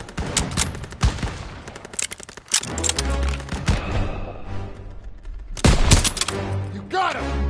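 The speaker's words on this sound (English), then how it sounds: "Firing!" Rapid gunfire bursts and heavy automatic weapon fire in the World War II shooter game Call of Duty WW2, loud and sustained with sharp cracks, a deep rumbling explosion-like boom in the middle and another burst near the end, with shouted game dialogue around it.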